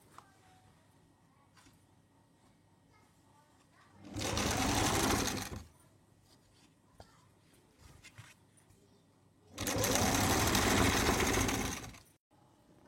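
A sewing machine stitches a shalwar in two long, loud bursts of steady whirring, each a few seconds long, separated by quiet gaps filled with faint handling sounds.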